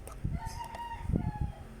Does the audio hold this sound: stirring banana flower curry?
no